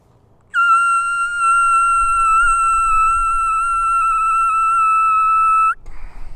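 A single-reed turkey mouth call blown with the tongue pressed to the reed, holding one steady, high, whistle-like note for about five seconds, loud and close, alone with no talk.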